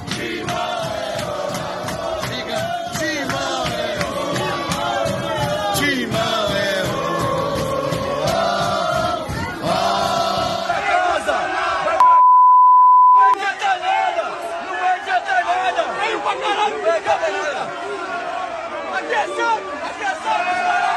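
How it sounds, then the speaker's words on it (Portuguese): Santos football fans chant loudly in a São Paulo metro station, a dense rhythmic group chant echoing off the walls. It breaks briefly for a steady beep tone, then the chanting resumes. "Aqui é a torcida do Santos."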